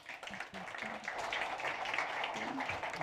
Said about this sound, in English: please welcome with a roaring applause André Albergaria, co-founder and principal at Biovance Capital